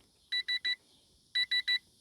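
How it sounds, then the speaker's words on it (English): Two groups of three sharp, high electronic beeps from an Eachine Mini Cessna RC plane's low-voltage alarm sound in quick rhythm, separated by a short pause, clear against near silence. "That's annoying when it beeps like that."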